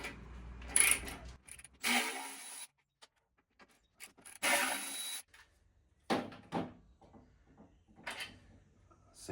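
A quarter-inch socket ratchet works on a new Harley-Davidson Street Glide CVO's Wilbers Nivomat suspension, giving loud, close bursts of rasping clicks separated by short pauses, with no talk.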